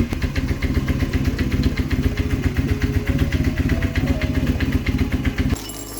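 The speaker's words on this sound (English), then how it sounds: "Let's head back inside while the bike warms up." A vintage Kawasaki KZ440 motorcycle engine idles while warming up, a rapid even putter of close, loud exhaust pulses that holds steady for about five and a half seconds before dropping to a quieter hum at the end.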